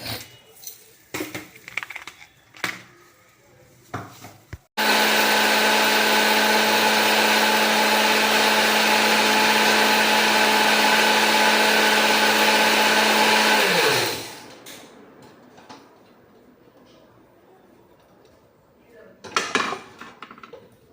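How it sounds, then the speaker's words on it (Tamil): A kitchen mixer grinder grinds rasam spice powder, a steady loud motor whine lasting about nine seconds before winding down, with clattering handling sounds before and after. "ஒய்ஃபு ரசப்பொடி அரைச்சிட்ருக்காங்க"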